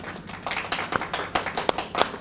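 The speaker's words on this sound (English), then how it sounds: "Give yourself a round of applause." A few people clap irregularly for a couple of seconds, sparse and fairly close, fading in quietly.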